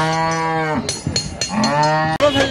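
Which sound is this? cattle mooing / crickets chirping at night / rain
cattle mooing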